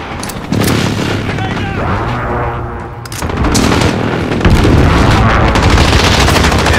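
Artillery strike in Call of Duty Modern Warfare 2019, loud booming blasts and rolling explosions mixed with gunfire bursts, heavy and close, with voices partly underneath.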